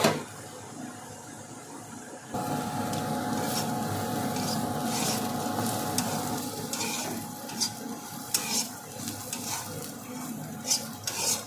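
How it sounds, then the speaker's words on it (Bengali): A pot of fish curry with potatoes, ginger, cumin, chili and turmeric simmers and sizzles while a utensil stirs and scrapes against the pan in scattered clinks. "মাছের ঝোল বসিয়ে দিলাম, জাস্ট আলু দিয়ে আদা জিরে লঙ্কা হলুদ দিয়ে"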